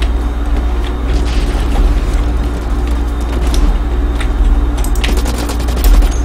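Rapid gunfire in the shooter game Blacklight Retribution, clusters of sharp bursts and cracks over a constant low rumbling drone, busiest toward the end.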